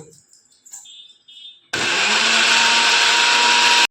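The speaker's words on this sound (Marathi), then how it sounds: "आता हे साहित्य पूर्ण आपण मिक्सरमधून काढून घेणार आहोत" A kitchen mixer grinder grinding spices starts up abruptly and whirs loudly and steadily, a harsh high-pitched grinding roar filling the rest of the clip after some quiet handling noises.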